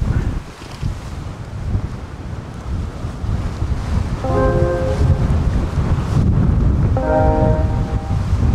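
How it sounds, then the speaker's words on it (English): Wind gusts buffet a microphone aboard a sailboat in the Gulf of Mexico, making a loud, steady low rumble with water and hull noise beneath it and brief faint tonal whistles. "Got a good gust right now."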